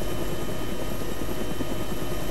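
A medium utility helicopter from an ArmA 3 flight-model mod drones steadily and loudly, with a constant thudding rotor beat and engine hum filling the whole stretch without pause.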